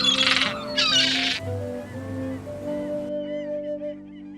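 Harsh, squawking gull-like cries burst out at first, followed by wavering, tonal calls over a low steady background.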